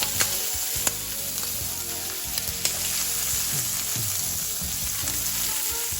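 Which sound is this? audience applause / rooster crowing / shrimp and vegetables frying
shrimp and vegetables frying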